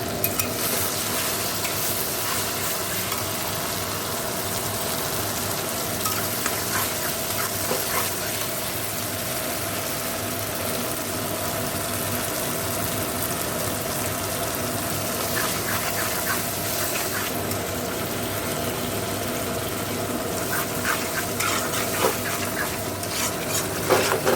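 Meat frying and being stirred in a spiced onion masala with whole garam masala, a steady dense sizzle with scraping stir strokes running continuously throughout, no talking.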